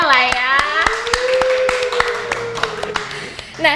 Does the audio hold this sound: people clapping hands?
yes